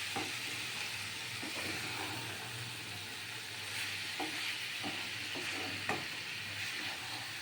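Soybean chunks stir-fried in a pan for a soybean korma, giving a steady sizzling hiss throughout with a few faint clinks of stirring, heard alone without talk.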